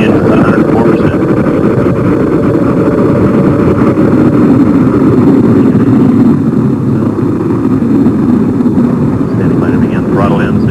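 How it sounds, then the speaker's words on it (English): Space Shuttle Discovery's three main engines roaring at liftoff as it clears the tower: a loud, continuous, rumbling roar with steady crackling texture throughout, heard from a distance without letup. "Liftoff. Americans return to space as Discovery clears the tower."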